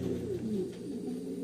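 Pigeons in a pigeon loft cooing steadily and close by, layered low throaty coos repeating throughout with no talk.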